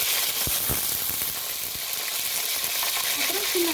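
Fenugreek, curry leaves, coriander and garlic fry in hot oil with a dense, loud, close crackling sizzle and a few sharp pops, with stirring underneath.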